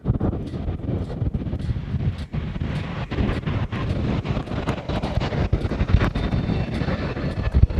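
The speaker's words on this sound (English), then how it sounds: "This is Hawaiian from JFK. And it is one of the Dreamliners" A Hawaiian Airlines Boeing 787 Dreamliner arriving from JFK at Honolulu airport gives a steady, broad jet roar, heavily mixed with gusty wind buffeting the microphone throughout.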